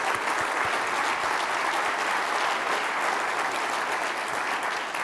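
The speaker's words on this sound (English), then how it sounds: "Let's give them a round of applause." Steady, dense applause from a conference audience at the Mackinac Policy Conference, many hands clapping continuously and evenly at full volume throughout.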